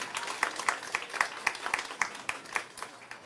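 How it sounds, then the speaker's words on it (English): An audience at an outdoor water tank handover in Dagg Point, Region 7, Guyana claps in a slow, even rhythm of sharp beats about four to the second, moderately near and fairly quiet. "Clap everyone."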